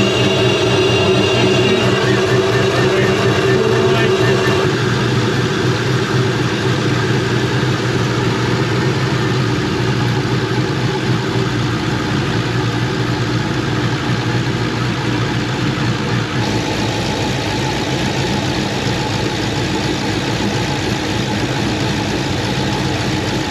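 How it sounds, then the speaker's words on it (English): A Pontiac GTO engine idles steadily with its fuel injectors clicking, a constant mechanical hum that runs evenly throughout with no voices. "the injectors are clicking and clacking and doing their little thing"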